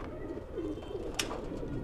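A fancy pigeon with purple feet gives soft low coos, a short murmuring phrase close by with a faint click, no voices.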